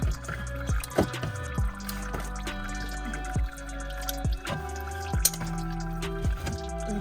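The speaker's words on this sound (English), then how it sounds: "As you can see, it's dripping" Engine oil drips from the drain of a 2006 Scion tC with a 2AZ-FE 2.0L engine during an oil change, falling in irregular, distinct plinks that repeat every second or so against a quiet steady background.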